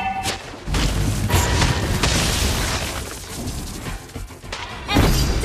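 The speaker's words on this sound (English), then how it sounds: "Your team destroyed a turret!" A turret blown up in an online battle game, a heavy booming blast with crashing debris that rolls on for several seconds, loud and close with a second thump near the end.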